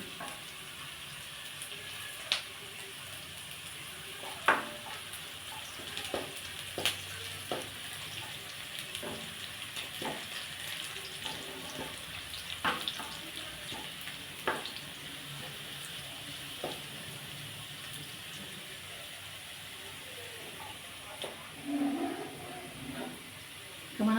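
Chopped ridge gourd and onions frying together in a pan, a long, steady soft sizzle close by with frequent sharp ticks and clinks of a stirring spoon, quiet throughout and without talk.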